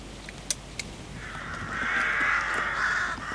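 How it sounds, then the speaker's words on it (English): Several crows caw harshly as they circle overhead above woodland where pigeons are being hunted with an air rifle, their calls rising into a sustained, fairly loud chorus after a couple of short sharp clicks. "the rest of the crows and that there in a bit of a mood, let's say, as they circle noisily above head"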